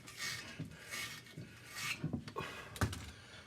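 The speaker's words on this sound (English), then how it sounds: "I have the smallest little 1/2-inch brush that works just perfect for cleaning the inside of those" A small half-inch brush scrubbing tightly inside the holes of a Caterpillar Cat 60 cylinder head, giving repeated raspy bristle strokes in uneven bursts, close and moderately loud, with no talking.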